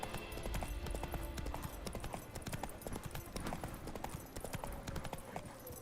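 In The Witcher 3, the horse Roach gallops with rapid, rhythmic clip-clop hoofbeats at moderate loudness that carry on steadily throughout over a faint ambient bed.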